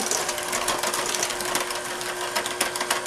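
An electric mixer runs steadily on low, blending snickerdoodle bread batter with honeycrisp apple, a continuous motor whir with a faint tonal hum and light rattling, loud and close with no voices.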